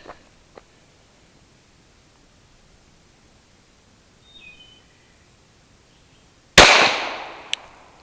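A Glock 43X pistol fires a single loud, sharp shot of 124 grain reloads over a chronograph outdoors. The crack decays quickly after a quiet lead-in with faint ticks and distant bird chirps.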